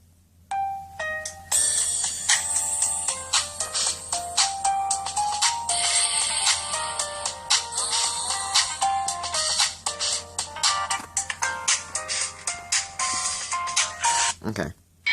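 Ringtones from an LG Wine II flip phone play one after another: bright melodic tones in steady musical phrases, loud and close, with brief pauses between tunes.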